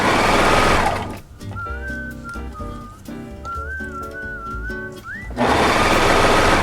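A sewing machine stitching a thong girdle runs in loud bursts at the start and end, close and steady, with a gap between where someone whistles a tune.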